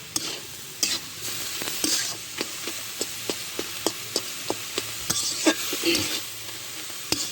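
Red amaranth greens sizzling in a pan while a spatula stirs them, steady frying hiss with regular sharp scraping clicks close by and no talking.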